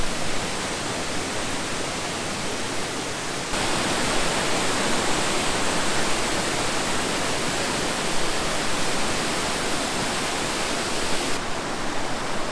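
Powerhouse Falls near Mt. Arvon rushes in a loud, constant broadband roar that fills the whole stretch, stepping up slightly in level partway through, with no voices.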